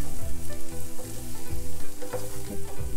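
Onions fried golden, then chopped tomatoes, sizzle in a pan for a Mexican-style beans and corn wrap. A dense, steady frying hiss runs throughout, with no one speaking.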